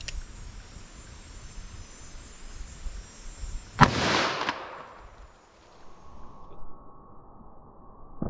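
A .44 Magnum revolver fires a single sharp, loud shot into ballistic gel outdoors, followed by a ringing decay and quiet background with a faint steady tone.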